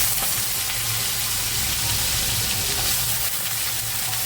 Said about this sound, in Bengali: এবার আমি আলুটাকে লাল করে ভেজে নেবো।